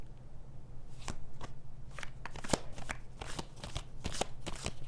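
A deck of cards being shuffled up close, with quick riffling bursts and soft taps at irregular intervals.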